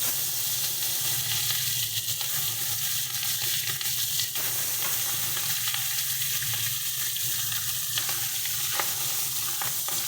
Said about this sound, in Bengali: এবার আমরা মাছগুলোকে ভেজে নিচ্ছি।